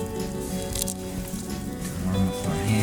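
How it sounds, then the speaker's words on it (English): Hungarian goulash ladled out of a pot over an outdoor fire, giving a soft, continuous wet squishing and pouring of thick stew, fairly close, with a steady tonal hum running underneath. "I'm gonna get my trusty ladle, and I'm gonna pour us some."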